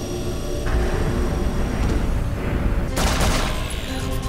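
Video game gunfire rattles in dense, continuous bursts, loud and close, with a sharper surge of shots near the end and no voices over it.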